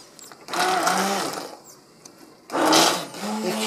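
A hand blender whirs as it purées spinach for palak tofu, running in two steady bursts with a short lull between, close and fairly loud.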